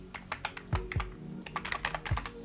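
Fingers type a short command on a Mac keyboard in a terminal, a quick uneven run of soft close key clicks with a few heavier thumps from the space bar.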